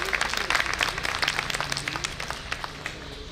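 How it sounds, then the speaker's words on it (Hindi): Crowd applause greeting a guest at an engineers' association New Year celebration, many hands clapping in a lively, fairly close patter that tapers slightly toward the end. "एक तालियों से, जोरदार तालियों से स्वागत करें।"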